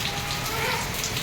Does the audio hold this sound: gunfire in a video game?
no